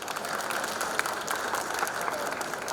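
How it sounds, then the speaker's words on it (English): An audience at an EPC India e-mobility panel session applauds its panelists, a steady, moderately quiet wash of many hands clapping at an even level throughout. "May I have a round of applause for our distinguished panelists?"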